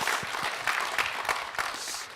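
Brief burst of audience applause at a memorial concert, moderately loud and steady, fading slightly toward the end with scattered individual claps.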